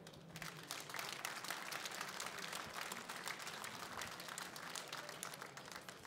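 Sustained audience applause at a French carnivorous-fish angling championship awards ceremony, an even, continuous patter of many hands, fairly faint and distant, with no voices over it.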